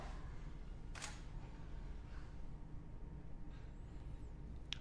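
A camera shutter fires once, a single sharp mechanical click standing out against a quiet, low background hum, with a few faint small handling ticks afterward.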